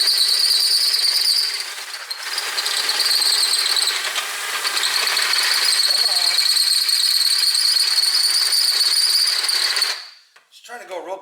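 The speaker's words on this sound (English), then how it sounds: "gonna just drill these holes out real quick" A power drill boring out riveted caster rivets, a loud sustained high-pitched grinding whine that dips briefly and then runs steadily for about ten seconds before stopping, followed by a few handling clatters.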